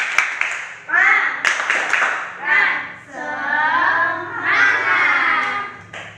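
A classroom group does a rhythmic spirit clap, with sharp hand claps punctuating loud, drawn-out chanted voices across several short bursts.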